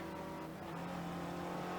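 A race car at Circuit de Barcelona-Catalunya drones steadily past at a distance, its engine note faint and continuous with slight pitch rising as it accelerates.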